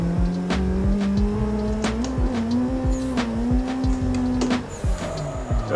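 A car drifts sideways with its engine holding a steady, strained drone while the tires squeal and chatter in repeated sharp bursts, loud and close throughout, the engine note easing off near the end.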